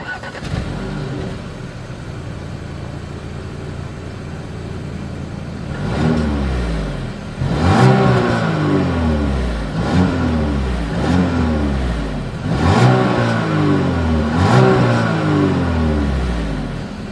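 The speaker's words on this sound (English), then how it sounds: "As always, here is that exhaust clip." 2020 Audi Q5 SUV exhaust revving repeatedly, engine climbing and dropping in a series of loud, close bursts after an idling start, no voices.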